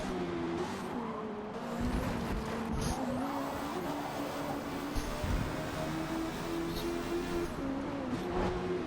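A Mazda MX-5 cup race car in Forza Motorsport at Brands Hatch, its engine droning steadily at close range with shifting revs and rising and falling pitch, mixed with tire noise throughout.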